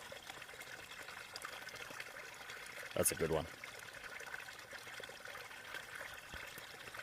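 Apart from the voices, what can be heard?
trickling stream at a trail campsite water source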